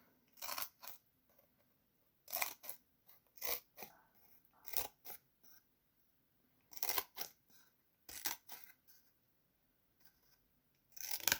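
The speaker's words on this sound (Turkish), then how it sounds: "Diğer kısımları yaklaşık 2 santim kadar kesiyorum." Scissors snip cardboard into strips about two centimetres wide, with close, crisp cuts arriving in quick irregular clusters separated by short quiet pauses.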